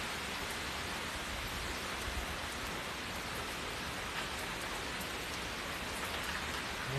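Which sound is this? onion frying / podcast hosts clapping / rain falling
rain falling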